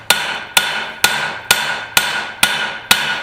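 A rounding hammer strikes hot steel on an anvil while a garden cultivator is forged and flattened, seven sharp, loud ringing blows landing at a steady pace of about two per second, each with a short decaying ring, no voices.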